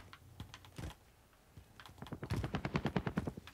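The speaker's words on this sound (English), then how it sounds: "Why are you even shooting me, bro?" Rapid bursts of gunfire in Call of Duty Warzone, a few scattered shots early, then a steady fast string of rounds building in loudness, fairly faint overall.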